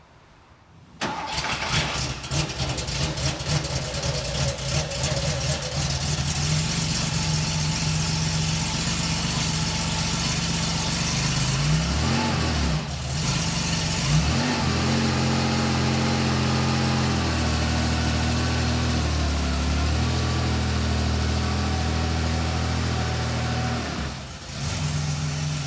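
Engine of a 1976-77 Porsche 911 Carrera 3.0 on a drive, loud and close, with a steady running drone that shifts in pitch through gear changes and brief lifts, a dip near the middle and another near the end.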